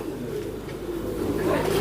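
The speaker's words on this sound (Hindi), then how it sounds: "सो ये कबूतर जो आप देख रहे हैं इस वक्त एजाज़ भाई के पास, ये फ़िरोज़पुर से इन्होंने लाया है" Ferozpuri pigeons from the Ferozpur border area give low, soft cooing, a faint repeating murmur that continues steadily with light background noise.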